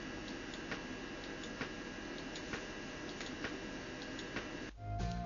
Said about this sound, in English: The ticking you hear is the individual audio samples playing after the breakpoint.